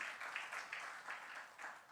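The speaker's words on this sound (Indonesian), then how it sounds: "Tepuk tangan buat Tuhan kita, saudara." A church congregation claps during a sermon, faint and distant rhythmic clapping in regular bursts, fairly quiet overall.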